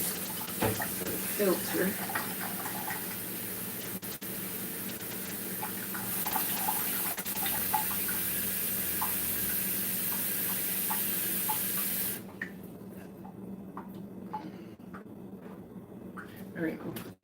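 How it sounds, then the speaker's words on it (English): Tap water runs into a container for filtering in a steady rush that stops partway through. A voice speaks briefly, and clinks and handling noises sit under the flow. "now let's put a little bit more water in here"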